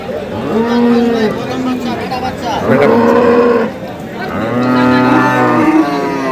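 Dairy cows moo loudly nearby at a cattle market in Thakurgaon, three long drawn-out lows one after another, with faint market chatter in the background.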